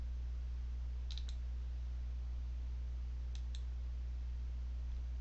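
Two pairs of quick, crisp computer mouse clicks sound close over a steady low electrical hum, spaced a couple of seconds apart with no voices.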